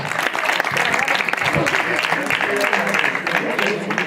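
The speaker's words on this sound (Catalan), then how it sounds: "Un aplaudiment per a l'oncle Porra, sí senyor" A crowd at a storytelling gathering in Penàguila claps steadily and loudly throughout, with voices and cheers mixed into the applause.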